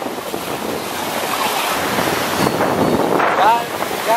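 Ocean waves wash onto a beach at sunset, a broad continuous surf roar mixed with wind buffeting the microphone, with faint voices in the background.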